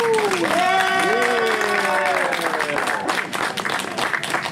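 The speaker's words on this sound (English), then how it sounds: "Keep that round of applause going for IMG, right?" An audience at a poetry show breaks into sustained, loud applause with whoops and cheers, while a voice calls out over the clapping.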